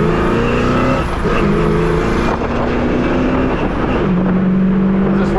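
A 1966 Pontiac GTO convertible engine revs hard and pulls away, the pitch climbing through gear changes, loud and close.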